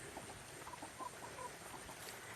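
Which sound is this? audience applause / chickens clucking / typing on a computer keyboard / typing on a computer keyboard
chickens clucking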